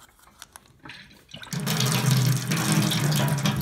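Tap water in a tiny house, started by plugging two connectors together, gushes steadily and loudly after a few quiet clicks and handling noises, running without a break.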